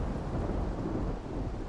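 A thunderstorm in the video game Bannerlord, a steady, dense rumble of thunder and rain filling the short stretch, loud and continuous with no voices.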